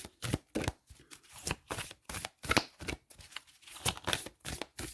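Tarot cards being shuffled by hand, a rapid series of soft, papery riffles and slaps in uneven bursts, close and fairly quiet, with no talk.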